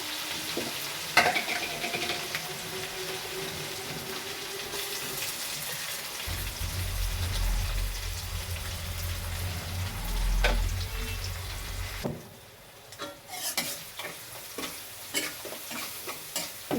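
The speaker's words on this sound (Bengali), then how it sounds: "পেঁয়াজ ভেজে নিলাম হালকা এখন মশলাগুলো দিয়ে দেবো" Onions and spices frying in a pan, a soft steady sizzle with occasional stirring scrapes and clinks, fairly quiet and without talk.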